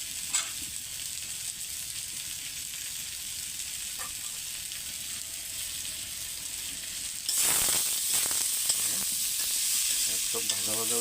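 Pointed gourd and paneer with spices sizzle steadily in an oil-light pan, a soft continuous fry that swells louder and brighter about two-thirds through as stirring scrapes and clatters in.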